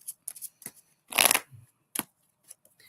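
Tarot cards being shuffled by hand give a burst of riffling flutter amid scattered soft taps and flicks, close and dry with no talking.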